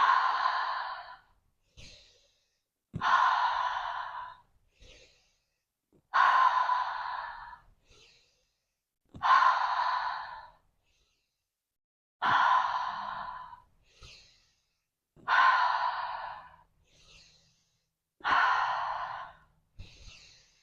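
Deep yogic breaths in chakra pranayama practice, seven loud, forceful breath bursts spaced evenly about three seconds apart, each a rushing sigh-like exhale with no talking between them.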